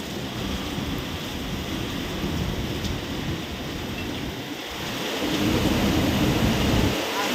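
Heavy unseasonal rainstorm with strong winds in Ahmednagar, a steady roar of downpour and gusting wind that swells louder near the end, with no voices.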